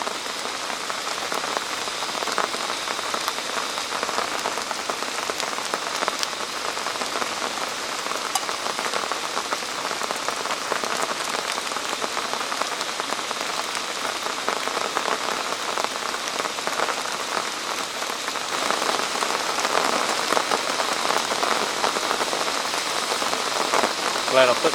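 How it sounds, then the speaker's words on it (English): Heavy rain drums steadily on a tarp shelter beside a tipi in the woods, a dense unbroken patter that swells slightly louder toward the end, with no voices. "It's raining cats and dogs."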